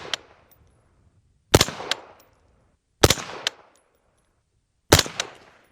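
A 9.69-inch 5.56 rifle fires outdoors at about 30 yards. Three loud, sharp shots sound a second and a half apart, each with a quick echo that decays into quiet.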